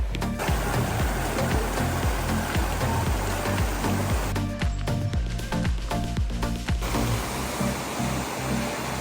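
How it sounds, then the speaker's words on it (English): Panther Creek Falls in North Georgia sends out a steady, full rush of falling water, with soft repeated thumps like footsteps on the trail running beneath it. "We're getting closer to the falls now."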